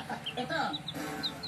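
Clucking chickens from a lemon redquill hatch, several soft overlapping clucks and chirps close by, continuous and fairly quiet.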